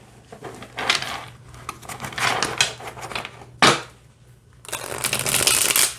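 An Animated Movie tarot card deck is shuffled by hand in close, crisp bursts of riffling and card slaps, with brief pauses between them and a final longer shuffle.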